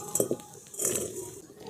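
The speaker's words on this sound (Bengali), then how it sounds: "এবার কড়াটা বসিয়ে দিচ্ছি।" A metal wok (kadai) is set down on a lit stove for frying lachcha nimki, giving a couple of short clanks and a scraping clatter close by, quiet overall.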